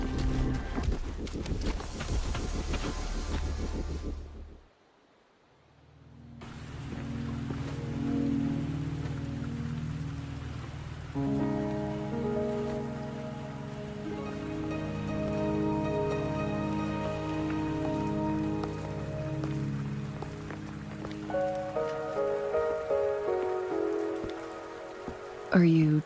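Steady rain patters on surfaces in the Wuthering Waves video game on Mount Firmament, a constant hiss under gentle, swelling game music, briefly dropping away before returning.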